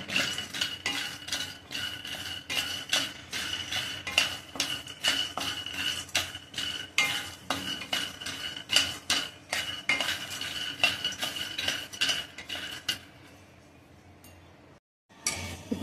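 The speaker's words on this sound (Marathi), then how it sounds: "शेंगदाणे पण भाजून घेऊया आणि नंतर त्याची साल काढायची." Peanuts roasting in a pan, stirred briskly with a metal spoon: a fast, regular run of clinks and scrapes that continues for a while, then stops near the end.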